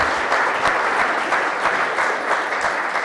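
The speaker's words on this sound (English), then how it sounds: "let's give Guy one more round of applause" Sustained audience applause for speaker Guy Fraker at a lunch lecture, dense even clapping from a full room, loud and unbroken from start to finish.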